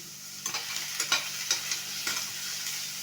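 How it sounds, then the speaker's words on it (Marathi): Ten or twelve cashews fry in a little oil in a pan, a soft steady sizzle broken by repeated stirring scrapes at an uneven pace, close and without talk. "त्याच्यामध्ये थोडं तेल घालूया दहा बारा काजू घालू याच्यामध्ये"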